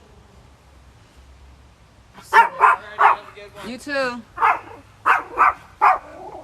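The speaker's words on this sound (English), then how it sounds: "Barking dog." A dog barks repeatedly up close, loud rhythmic woofs with a brief whine in the middle, mixed with a short spoken remark.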